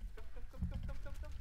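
Chicken clucking at a farm in warm winter weather, several short rhythmic clucks close by, with a low rumble underneath and no talking.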